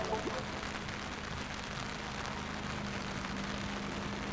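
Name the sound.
heavy rain falling at a cricket ground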